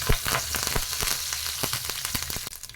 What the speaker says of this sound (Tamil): எண்ணெய் சூடானதும் கொஞ்சமாக கடுகு பொரிஞ்சதும் கொஞ்சமாக கருவேப்பிலை போட்டுக்கலாம்